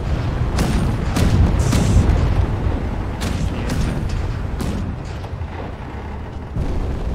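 Rail gun fire and explosions during a video game boss fight, a steady barrage of booming blasts and rumbling impacts that carries on for several seconds.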